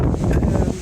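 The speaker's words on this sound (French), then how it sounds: "J'espère que vous m'entendrez parce qu'il y a vachement de vent" Strong wind buffets an outdoor microphone, a loud, dense low rumble with gusty fluctuations throughout the brief moment.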